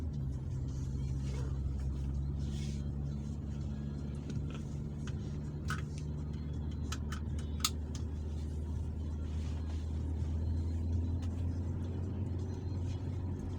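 A Toyota Kluger cruising on a road at about 40 km/h, a steady low engine and road rumble filling the cabin, with occasional faint clicks and rattles above it.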